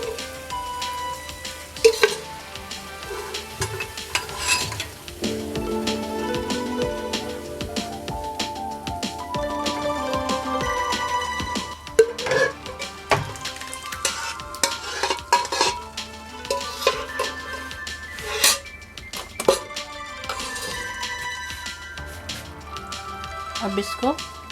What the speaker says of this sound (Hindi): अब हम इसमें अपनी ये बॉईल की हुई दाल डालेंगे।